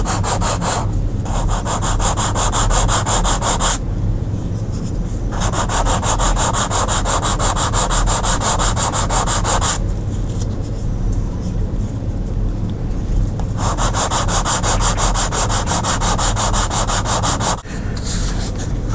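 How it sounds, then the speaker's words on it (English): A small 1/64-scale Audi Sport Quattro model is sanded by hand with 1000-grit 3M sandpaper, giving a loud, close, steady rasping scrub in long continuous strokes with brief pauses between passes. "So now I need to sand it down."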